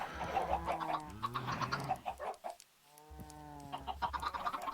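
Minecraft chickens cluck and squawk in short bursts, several calls overlapping near and clear, with a brief quiet gap in the middle.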